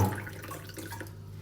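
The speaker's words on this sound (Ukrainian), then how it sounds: "він заварюється і потім додаю холодну воду" Cold water runs from a tap into a cup of freshly brewed tea at a kitchen sink, a steady soft pouring and splashing that holds for a moment with a low hum behind it.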